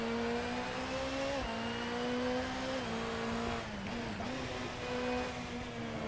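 Race car on hard tires in a racing simulator game, its engine holding a steady high drone with brief shifts and dips in pitch as it runs through corners, loud and continuous.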